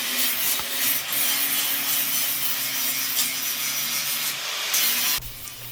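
Steady, continuous scraping and rasping of a tool against rotten wooden coring in a Bertram 25 boat, close and unbroken for several seconds, with a brief change in tone near the end.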